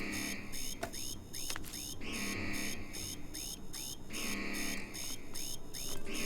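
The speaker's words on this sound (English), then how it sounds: "Can't we turn off this incessant alarm?" Alarm blaring in Starfield, a repeating electronic tone pulsing in regular bursts with sweeping falling chirps between them, steady and loud throughout with no talk.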